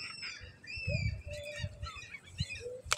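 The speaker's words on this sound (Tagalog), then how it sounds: "Ang daming ibon doon, may nagbibigay ng pagkain kaya maingay sila." Scattered bird chirps and squawks from several birds being fed in a village near Moscow, faint and mixed with low rustling and soft thumps, ending in a sharp brief clatter.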